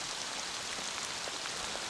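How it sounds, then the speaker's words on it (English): Steady rain falls in the Mount Hood immersive environment on Apple Vision Pro, a soft, even hiss of drops on surfaces that stays constant and moderately quiet throughout, with no other sounds. "you can turn around and see that it's raining in here"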